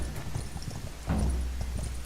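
Horse hooves clip-clopping in a quick steady rhythm as the horse sprints across open ground in the Ertugrul video game, close and continuous.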